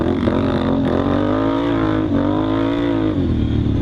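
Can-Am Renegade XXC 4x4 ATV engine racing on a rutted, whooped-out field course, loud and close, its pitch rising and dipping continuously as the rider works the throttle.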